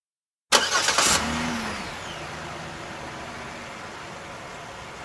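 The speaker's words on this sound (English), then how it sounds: "Vanilla, my car is remote start." Car engine starts by remote start after silence, with a sharp crank and catch, then a rattly rev that settles into a steady idle hum, close and clear with no voices.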